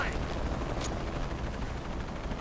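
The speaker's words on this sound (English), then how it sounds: "Why do they get a helicopter?" A helicopter in the video game Shadow of the Tomb Raider, a continuous rhythmic rotor thump with engine rumble, steady and fairly close, with a brief sharp burst near the start.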